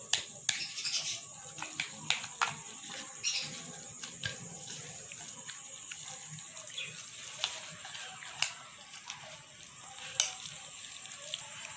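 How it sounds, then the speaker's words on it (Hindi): Chicken frying in a pan while being mixed for a club sandwich filling, a faint crackling sizzle broken by sharp clicks and taps of the spoon, close and without talk. "और अब इसके अंदर चिकन डाल देंगे। चिकन डाल लिया, अब इसको मिक्स कर लेंगे।"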